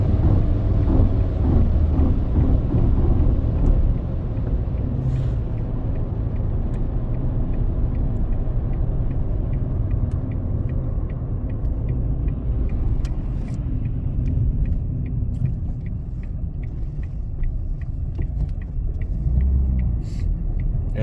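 A 2012 Ford Fiesta 1.4 TDCi 70 PS car drives at high speed, a loud continuous cabin rumble of engine and road noise that eases slightly as the throttle is lifted, with no talk.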